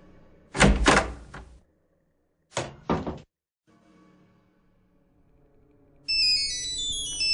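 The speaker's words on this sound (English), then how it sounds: "There goes my cell phone." In the Nancy Drew game The Curse of Blackmoor Manor, a few heavy door thuds and knocks give way to a cell phone's bright electronic ringtone, which starts clearly and repeats its melodic pattern alone.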